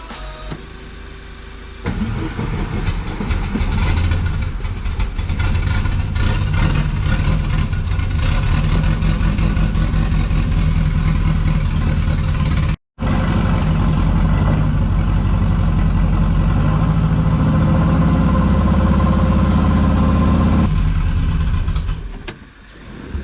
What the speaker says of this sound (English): this is gonna be the first cold start of the bug